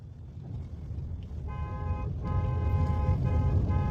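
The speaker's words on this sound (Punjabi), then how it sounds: "ਹਾਰਨ ਤੇ ਹੱਥ ਰੱਖ ਹੱਥ ਰੱਖ ਹਾਰਨ ਤੇ" A car horn honks in repeated blasts, a short one then longer sustained toots, over rumbling road and engine noise.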